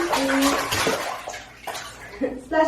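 A toddler splashes in bath water during an evening routine, with sloshing bursts and watery movement close by, broken by short pauses and a voice.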